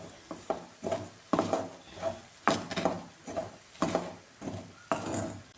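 A utensil stirs a capsicum and egg stir-fry in a pan, giving repeated clattering scrapes and knocks in a regular rhythm, close and fairly loud, with a faint sizzle beneath and no talk.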